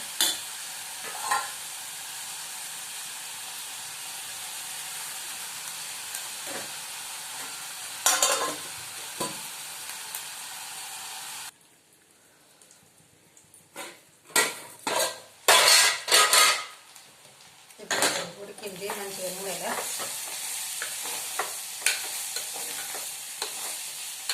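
Tomatoes fry in a pan, hissing steadily while a utensil stirs and clanks against the metal; midway the sizzle drops away and gives way to sharp scrapes and knocks before the frying noise returns.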